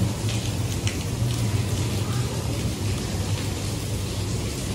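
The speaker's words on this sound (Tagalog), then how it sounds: "Kaso lang sobrang ulan." Heavy rain falls outdoors in Singapore as a dense, steady hiss of drops on surfaces, close and continuous, with no voices.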